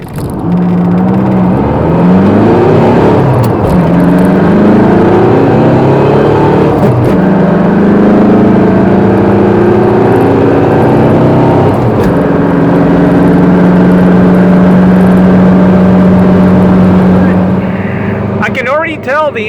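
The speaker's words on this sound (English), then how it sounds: "So now the engine tune, it sounds very, very crispy." A tuned car engine revving with a crisp, rasping note, rising and falling repeatedly and loud close by, while someone talks over it.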